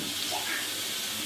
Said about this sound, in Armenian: Այդ ամանի մեջ եմ դնում ու ջուր եմ լցնում։